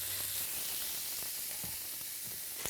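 Fresh tuna sears in a hot pan, a steady, close sizzle with a constant hiss running throughout, no talking over it.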